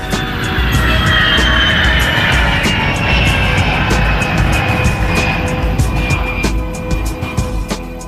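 Engines of an Antonov An-225 Mriya cargo aircraft at the 1989 Le Bourget air show, a loud continuous jet roar with a slowly shifting whine, easing slightly toward the end.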